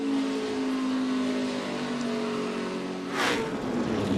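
NASCAR Cup Series stock cars roar at speed in a multi-car pileup as Kyle Busch's car hits the back of Kasey Kahne's; a steady, loud engine drone runs throughout, broken near the end by a short, harsh burst of impact noise, with no talking.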